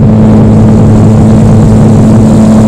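A motorcycle engine drones steadily and loudly on a highway bike ride, a constant close hum with wind rush and no voices.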